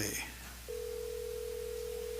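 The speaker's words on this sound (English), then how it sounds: "next one's the phone call" A phone line at a grant committee meeting connecting a call, with a brief muffled voice at the start, then a sudden steady electronic tone that holds without a break to the end.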